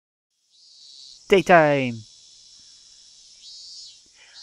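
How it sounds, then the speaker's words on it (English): Cicadas in the Higurashi visual novel drone in a high, steady buzz behind a shouted voice, running on after the speech ends and fading slightly. "The voices of the cicadas permeating my room were somehow grate into my head."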